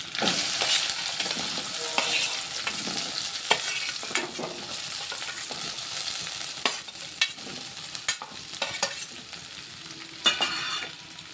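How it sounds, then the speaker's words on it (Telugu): Okra pieces fry in a pan with ginger garlic paste, a continuous crackling sizzle punctuated by repeated spatula scrapes and taps as the mix is stirred, close and clear, with no voices. "ఇప్పుడు ఇందులో కట్ చేసుకున్న బెండకాయలు వేసుకుంటాను"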